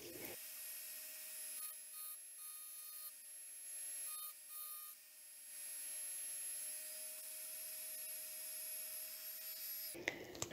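A rotary tool fitted with a large diamond bar, about 5 millimetres, engraves the stem of a daisy into glass, running wet. A steady high whine with faint grinding carries on throughout, with brief pauses as the bar lifts.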